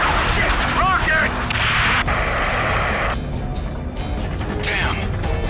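A rocket explodes during intense aerial combat in the Ace Combat 7 video game, a loud sustained blast with rumbling and debris amid other battle noise, with voices shouting over it.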